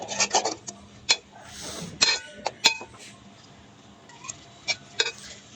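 Beef spice masala stirred in a pan, with close scraping and rasping strokes of a spatula against the metal, irregular rubs and clinks over a faint background.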